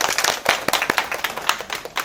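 Short burst of audience applause and scattered clapping in a small indoor class after a deluxe stroller folding demonstration, lasting about two seconds.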